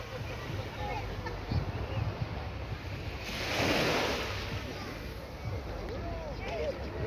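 Ocean waves at Brandons Beach, Barbados, a continuous roar of surf with a wave swelling louder midway, wind buffeting the microphone throughout.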